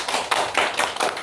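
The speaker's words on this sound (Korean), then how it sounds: "또 한 번에 박수 주세요." A brief burst of rhythmic clapping from a church congregation at a Ugandan mission service, a few distinct hand claps in quick succession.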